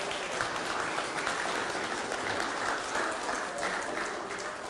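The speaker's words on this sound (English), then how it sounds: "Give them an applause." An audience at a talk on personality types claps together in steady, dense applause for several seconds, filling the room with a continuous wash of hand claps.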